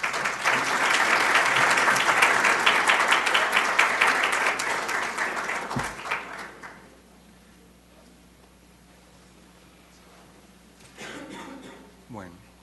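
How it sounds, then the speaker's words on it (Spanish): Loud applause from an audience at an economics lecture fills the room for about six seconds, then fades to quiet room tone with a brief stir near the end. "Por favor, un aplauso al profesor."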